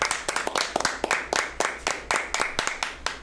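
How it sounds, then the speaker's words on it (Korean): A few people clapping in a short burst of irregular, close handclaps, with no other sound standing out. "자, 그리고 박수 한번 치시죠."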